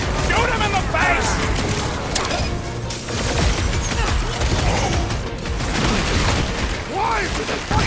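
Rapid bursts of blaster gunfire and booming impacts in Marvel's Guardians of the Galaxy combat, dense and continuous, with character voices shouting over the fighting.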